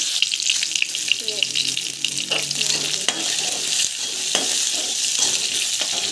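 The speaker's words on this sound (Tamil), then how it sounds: "ஸோ ஆயில் போட்டிருக்கோம் பார்த்திங்கன்னா. ஸோ இது பார்த்திங்கன்னா நல்லா வதக்கிக்கோங்க." Gongura leaves sauteing in hot oil, a continuous loud sizzle with scraping stirs and clinks of a spoon against the pan, close by, with no one talking.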